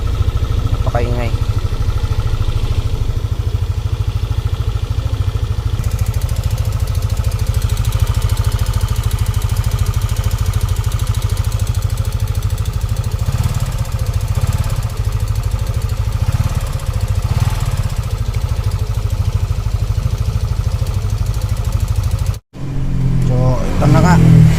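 Yamaha NMAX scooter engine running noisily, with a knocking fault, a loud steady close-up drone that holds for over twenty seconds, with a brief dropout near the end and someone talking over it.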